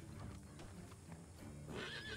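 A horse in a role-play video game neighs as its rider dismounts, with a short whinny near the end and soft hoof clip-clops beforehand, sounding close and fairly clear.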